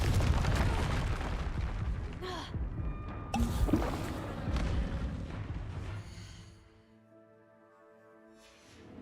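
A Confringo fire spell explodes in the game Hogwarts Legacy, a loud rumbling blast with crackling debris that rolls on for several seconds before fading into a quieter ringing tail.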